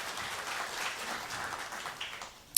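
A church congregation claps together in a soft, fairly distant patter that holds steady for a couple of seconds before a sharp knock at the very end.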